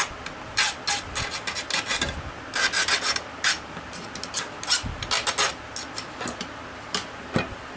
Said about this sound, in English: file off any sharp burrs